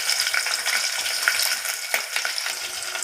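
Finely chopped onions sizzle steadily in a hot pan, a close, continuous crackling fry with light stirring.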